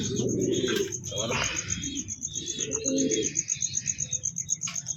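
Pigeons cooing near a pigeon loft where birds sit on eggs: soft, low repeated coos and a few chirps, with a constant high-pitched whine in the background.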